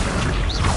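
A summoning spell in Hogwarts Legacy gives a short mechanical whoosh with a rising, bending shimmer partway through, loud and dense over its brief length.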